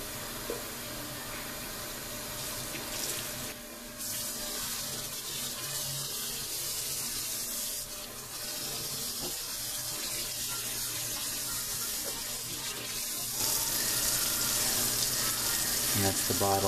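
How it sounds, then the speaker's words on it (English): Steel shapes and water are poured out of a bottle into a strainer, giving a steady rushing splash with faint metallic rattling that keeps going and gets louder near the end. "I'll go ahead and dump these out in the strainer"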